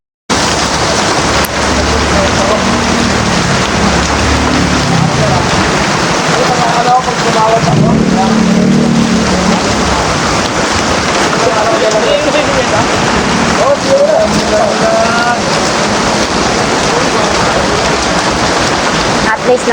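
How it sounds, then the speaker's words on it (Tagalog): Heavy rain pours down steadily and loudly, a dense unbroken roar with wind buffeting the microphone, with no pause throughout. "Lakas ng ulan nito mga idol, ha?"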